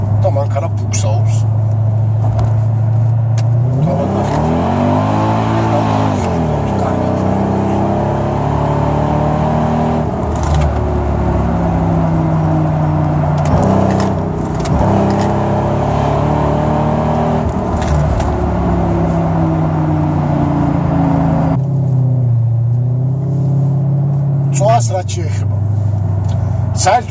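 A Mercedes E55 AMG Kompressor with its air filters removed accelerates hard from 80, the supercharged V8 climbing in rising sweeps of engine tone, easing and rising again, loud and close with a steady rush of road and wind noise throughout.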